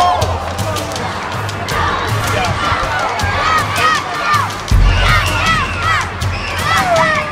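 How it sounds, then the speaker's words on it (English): A hockey arena crowd at a QMJHL game in Moncton cheers and shouts loudly, with high whistles and excited voices swelling together, plus a deep thump near the middle, steady and enveloping. "Crowd's getting really into it now."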